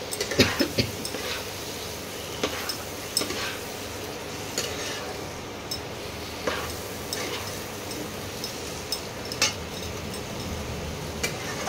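Fried potatoes stirred into a pan of spices for a Bengali banana-flower dopiaza, with a soft sizzle of oil beneath scattered scraping and clinking of a spoon against the pan, close and moderately quiet.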